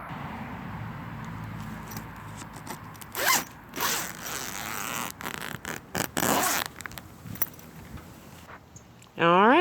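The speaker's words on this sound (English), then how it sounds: "this zipper right here, I zippered it all the way down, and we're gonna zipper it up and go inside." Zipper on a greenhouse cover being pulled, several separate rasping zips in short bursts, close and crisp, with quiet rustling between them and a voice at the very end.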